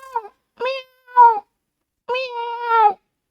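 A human voice imitates a cat meowing, giving four drawn-out mews in quick succession, the last one longest, clear and close with no other sound around it.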